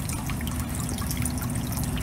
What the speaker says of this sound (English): it begins to pour with rain and everyone gets very wet